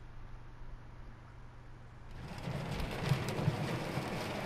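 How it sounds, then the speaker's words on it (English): Rain begins to fall in the war survival game This War of Mine, a steady soft hiss that swells after a quiet start, with faint patters throughout and no voices. "It's raining."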